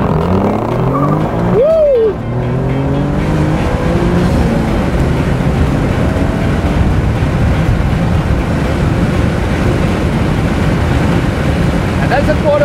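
Alfa Romeo Giulia launching hard on a quarter-mile run at an airport: the engine note climbs sharply through a gear early on, then gives way to a steady, loud roar of engine, wind and road noise for the rest of the run.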